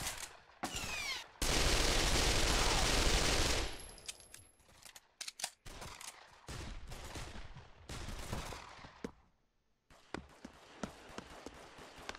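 In the VR shooter Pavlov VR, a long burst of automatic gunfire rattles close and loud, followed by scattered single shots, clicks and footsteps.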